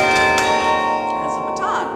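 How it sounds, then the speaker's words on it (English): Carillon bells played from a clavier ring together in a sustained, resonant chord of overlapping tones, with a few sharper strikes. "as soon as I play the baton, this wire goes up to the bells"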